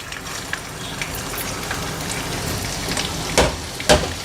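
Ginger sautéing in hot ghee and oil: a continuous crackling sizzle with two louder spatters toward the end, heard close with no talking.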